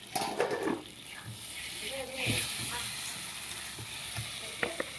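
Water splashes into a hot pan and sets off a loud burst of sizzling and crackling that settles into a steady hiss, with a few clinks near the end.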